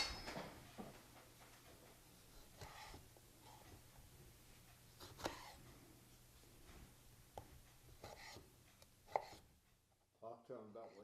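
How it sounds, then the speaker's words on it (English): Knife chopping tomatoes on a cutting board in irregular bursts of cuts, fairly quiet over a low steady hum, with a brief voice near the end. "So now we're going to start by chopping the tomatoes."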